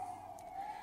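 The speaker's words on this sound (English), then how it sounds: "The sirens are coming." An emergency vehicle siren passes outside, a steady high wailing tone, moderately faint, heard for under a second.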